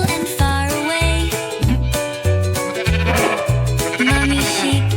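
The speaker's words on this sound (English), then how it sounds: "Mommy sheep called ba ba ba" Sheep bleat in a nursery rhyme song, a loud wavering baa repeated several times in rhythm over a steady musical backing.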